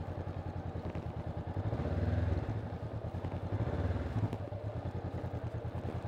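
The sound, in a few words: motorcycle engine during slow riding practice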